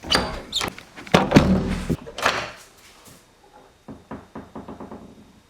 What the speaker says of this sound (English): I just used the force to open that door